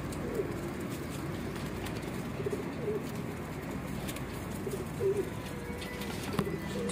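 A group of pigeons held in a cage coos continuously in overlapping low, throaty phrases, close and steady.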